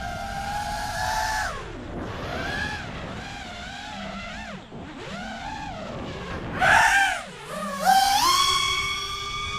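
An ORQA DreamX freestyle FPV quadcopter flying at full throttle, a high buzzing motor whine that swoops up and down in pitch as it passes, fading and surging again, loud with no talk.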